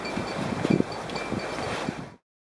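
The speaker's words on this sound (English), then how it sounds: "The biggest challenge today, though, was the wind, blowing at approximately 80 kilometres an hour." Strong wind at about 80 km/h gusting across an open snowy alpine trail, a steady broadband rush with low buffeting thumps against the microphone, continuous for about two seconds before cutting off.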